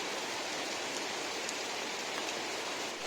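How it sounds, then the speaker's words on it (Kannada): Heavy monsoon rain falling in a village: a steady, dense hiss of downpour that fills the whole stretch evenly, close and loud, with no voices. "ಈಗ ಒಳ್ಳೆತ ಮಳೆ ಬರ್ತಾ ಇದ್ದು"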